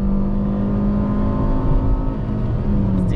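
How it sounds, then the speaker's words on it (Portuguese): A Fiat Grand Siena 1.0 engine revs hard at full throttle, a steady loud drone with strong harmonic tones that climbs slightly and holds throughout, heard from inside the car with no talking. "Só que nesse cenário aqui, ó, que eu preciso de motor, ó, pé máximo, não vai."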